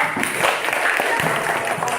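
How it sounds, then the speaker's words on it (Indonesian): Schoolchildren in an elementary classroom clap for a classmate, a short burst of crowded clapping mixed with voices and chatter throughout. "Tepuk tangan buat Rama."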